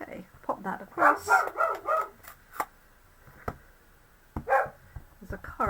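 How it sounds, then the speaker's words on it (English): Indoors, a dog barks at a car outside in a few short, sharp bursts, while a person talks nearby. "There's a car outside, that's what Woody is barking at"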